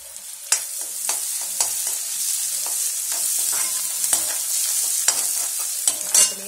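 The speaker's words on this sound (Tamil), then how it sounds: "வதங்கிட்டே இருக்கும்போது பச்சை மிளகாய் போடுறேன்" Vegetables, green chillies and ginger for rawa upma sizzle and crackle in a hot pan, with occasional sharp scrapes and clicks of a spoon stirring, close up and without voices.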